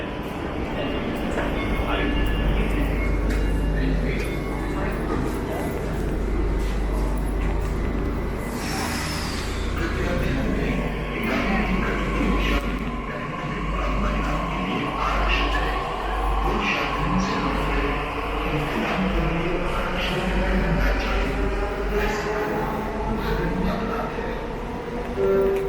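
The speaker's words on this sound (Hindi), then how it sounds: "ये तो मेट्रो आ गया।" Delhi Metro train arriving at the platform and running past, a loud continuous rumble with rising and falling tones and a low roar throughout, while people talk over it.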